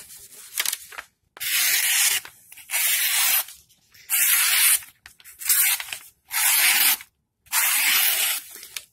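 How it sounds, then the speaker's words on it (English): Six slices through paper with a factory-edge Sanrenmu MU-714 folding knife, each a rough, raspy hiss lasting under a second with slight skipping, separated by brief pauses and light handling sounds. "Let's do a little bit of cut tests and show you how well the cutting edge is from the factory."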